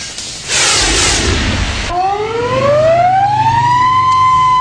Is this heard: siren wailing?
yes